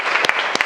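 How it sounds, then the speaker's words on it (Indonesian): A few quick, sharp hand claps from a classroom of students, two short bursts close together in a brief moment with no talking. "Tepuk tangan."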